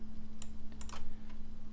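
Keyboard shortcut keys on a computer keyboard are pressed while laying out a design, giving a few quick, close clicks over a steady background hum.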